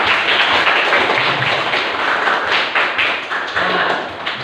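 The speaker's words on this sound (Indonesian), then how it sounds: "Tepuk tangan buat kalian semua ya." Students applauding in a classroom, a dense patter of many hands clapping together, loud and close, with a few louder thumps as the clapping rises and eases.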